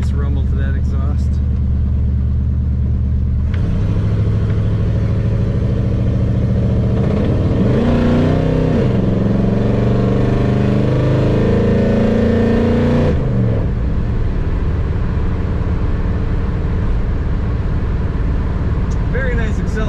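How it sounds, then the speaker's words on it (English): A 1970 Chevrolet Chevelle Malibu's exhaust rumbles loudly up close, swelling into a hard acceleration with rising engine tone in the middle, then settling back to a deep, steady rumble. "Even at idle, there's a nice rumble to that exhaust."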